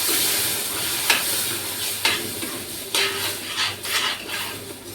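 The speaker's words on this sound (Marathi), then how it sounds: "गरम पाणी होतं ना आणि गरम रवा म्हणून आवाज जास्त." Hot water poured onto roasted semolina in a hot pan, raising a loud, steady sizzle with a few sharp bursts and stirring scrapes, close and without talk.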